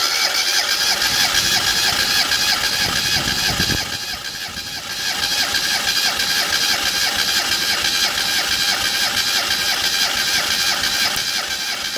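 A Classic Mini engine cranks over on the starter during a cylinder compression test, a loud steady rhythmic churning with a brief dip partway through before the cranking resumes.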